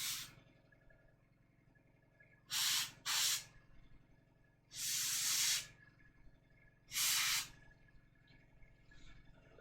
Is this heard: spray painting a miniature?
yes